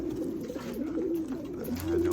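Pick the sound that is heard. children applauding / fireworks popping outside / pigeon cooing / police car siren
pigeon cooing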